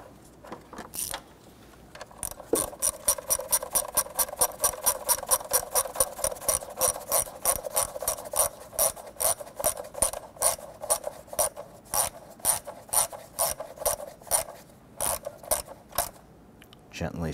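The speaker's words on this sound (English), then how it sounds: "Install the bolt for this portion of the lower cover." Rapid clicking of a ratchet tightening a bolt on a lower cover, a fast steady train of sharp ticks running for most of the stretch, close and fairly loud, with brief pauses between bursts.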